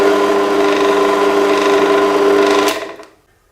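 An Energer pillar drill runs with a loud, steady whirring motor hum, then is switched off and quickly winds down to silence near the end.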